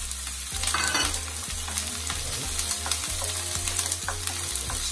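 Chopped onions and Scotch bonnet pepper are stirred in a preheated pot for roast fish with callaloo, giving a steady close sizzle broken by repeated scraping strokes of the spoon, with no talking.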